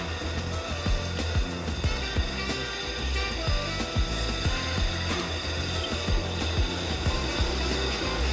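An 80 grit diamond wheel grinds soft beach stones with a steady, dense whir and a continuous gritty rasp, close and loud throughout.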